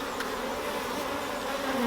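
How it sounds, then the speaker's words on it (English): Honeybees buzz steadily during a humid, cloudy colony inspection, a dense continuous hum close by with no talk over it. "Bees, they're bouncing, these bees"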